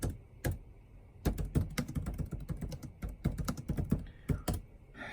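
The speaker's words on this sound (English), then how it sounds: "You don't know what the hell you're typing, do you?" Rapid clattering keystrokes on a computer keyboard, close and distinct, in quick irregular bursts after a brief pause at the start.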